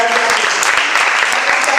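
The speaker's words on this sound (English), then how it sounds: "I want you to please give another round of applause." Audience applause at a formal engagement event with eminent women, a brief burst of dense, steady clapping from a room of people.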